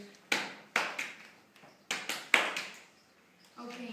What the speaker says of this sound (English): you have to hit your legs once, then clap, and then hit your legs